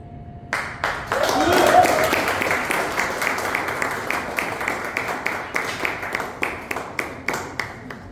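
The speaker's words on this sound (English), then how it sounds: "Let us have a huge round of applause for whoever that made it possible." A round of applause at a Toastmasters club charter meeting swells quickly to a full burst of clapping, then thins into scattered, distinct hand claps that taper off over several seconds.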